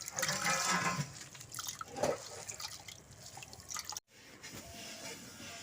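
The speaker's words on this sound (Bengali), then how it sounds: "ছানাটাকে ছেঁকে নিচ্ছি ছানা জলটাকে খুব ভালোভাবে ঝরিয়ে নিচ্ছি" Whey water draining and dripping from strained chhana while making rasgulla, a soft, close trickle with scattered drips, fairly quiet, broken by a brief dropout before the flow resumes.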